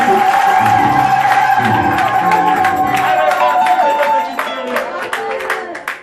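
Church congregation cheers and applauds loudly, a dense wash of crowd noise and clapping that holds steady before easing off near the end, with a few scattered claps remaining.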